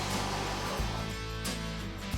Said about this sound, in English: Use a shop vac with a fine dust filter or ash vac to vacuum debris from this